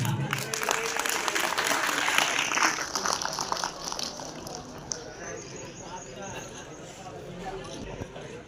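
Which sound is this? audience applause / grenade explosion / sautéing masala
audience applause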